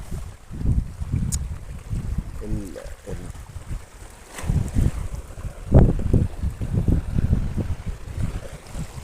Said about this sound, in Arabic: الريح شديدة يا جماعة